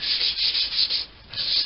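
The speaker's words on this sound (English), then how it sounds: "Now as I was stripping the paint off there" Sandpaper rubs paint off a 1946 Boxford lathe in loud, close, rhythmic back-and-forth strokes with a brief pause near the end.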